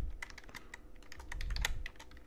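Keys clacking steadily on a computer keyboard as a device name is typed, a quick irregular run of close taps with no talking.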